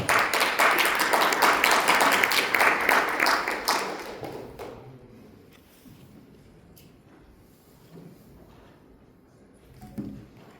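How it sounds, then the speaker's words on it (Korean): An audience at a maritime labor union forum applauds a speaker being introduced: a loud burst of many hands clapping that fades out after about four seconds, leaving quiet room tone with a faint thump near the end. "큰 박수 부탁드립니다"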